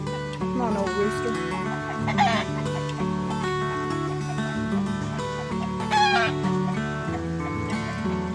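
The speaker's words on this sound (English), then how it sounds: "Oh, come on, old rooster." A rooster crows repeatedly among clucking chickens outdoors in the rain on a farm, with loud, drawn-out crows rising over a steady layer of clucks and other fowl noise.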